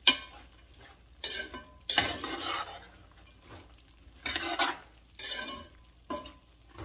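Coconut is stirred in thick syrup in a pot, producing bursts of scraping and bubbling at irregular intervals, each a second or so long, separated by quiet gaps, close by and with no talking.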